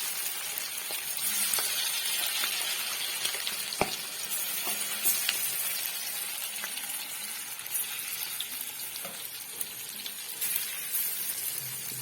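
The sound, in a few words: frying chicken in a pan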